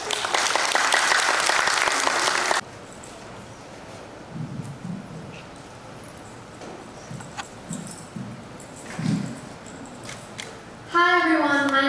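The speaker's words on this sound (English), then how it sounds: "Please join me in giving her a warm round of applause." A public speaking competition audience applauds loudly for about two and a half seconds. It stops abruptly and gives way to quiet room noise with faint shuffling, then a speaker begins talking near the end.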